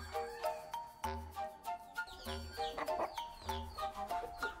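Chickens cluck inside a spacious coop, a busy chorus of short rhythmic clucks and calls overlapping at close range over a low background hum.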